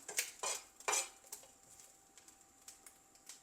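Grated coconut roasting in a pan for a jackfruit-seed masala, stirred with a metal spoon giving several clear scraping clinks early, then quieter, sparser taps against the pan.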